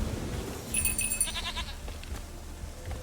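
A goat in The Witcher 3 video game gives a short, nasal bleat over low background game ambience, brief and fairly quiet, with no talk.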